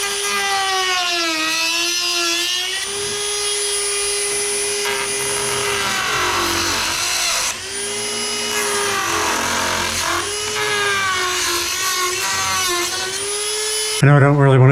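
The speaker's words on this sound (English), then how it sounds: "I'm going to try a Dremel tool, see if I can use that to cut this with." A Dremel rotary tool cuts fiberglass on a Squarebody interior restoration, a loud, close, high-pitched whine that rises and dips in pitch as it bites, running nearly continuously with brief pauses.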